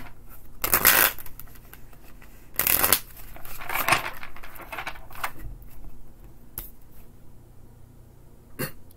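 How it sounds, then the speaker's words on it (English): A deck of tarot cards shuffled in several bursts, crisp riffling rustles with brief pauses between, close and fairly loud, no talking. "One more good shuffle"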